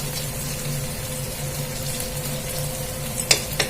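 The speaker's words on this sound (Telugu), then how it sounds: "మెంతి కూర కూడా మంచిగా వేగాలన్నమాట" Fenugreek leaves (methi) frying in a pan for an aloo methi curry, a steady soft sizzle with a low hum, ending in a few sharp clinks near the close.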